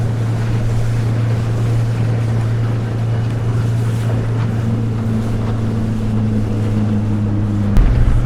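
Highfield 390 Sport boat cruising at about 15 knots and 3,500 RPM as it turns on open water: a steady, loud outboard drone with constant water wash and wind noise, no talk.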